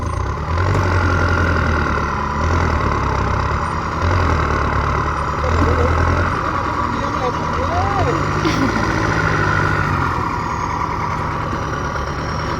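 A tractor engine rumbles loudly and steadily throughout with a low, continuous drone while the tractor is stuck in mud, and people talk over it nearby.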